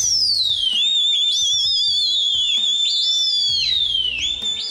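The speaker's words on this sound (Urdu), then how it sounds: "سیٹیاں اور خاص آواز کے ذریعے مالک اپنے کبوتروں سے آسمان پر رابطہ رکھتا ہے." Loud, piercing whistles from a pigeon keeper in Karachi calling pigeons in the sky sweep up and down in long sliding tones, one after another, over a low background hum outdoors.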